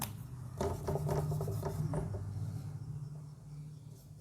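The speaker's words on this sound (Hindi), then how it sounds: "हम ब्लैक से लिखते हैं" A black marker squeaks and rubs across a board in a few quick, close strokes over about a second and a half, then fades to a quiet room hum.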